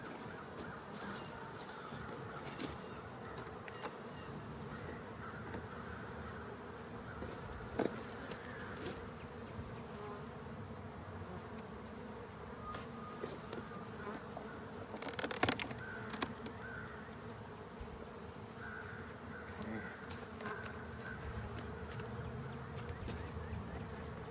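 Honeybees buzz steadily around an open hive during a spring inspection, a constant close drone with occasional louder passes of individual bees near the listener.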